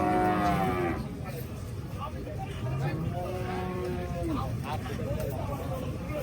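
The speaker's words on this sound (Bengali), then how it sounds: "দেখেন বিশাল সাইজের একটি গরু" A very large cow moos repeatedly at a busy cattle market, several drawn-out calls near and loud, under someone talking and crowd chatter.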